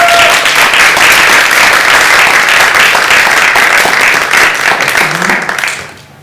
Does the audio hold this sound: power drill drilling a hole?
no